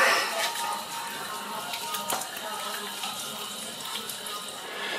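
Water pours steadily from a tap into a pot for cooking okra with fish, a continuous close splashing rush with a few drips, under faint background voices.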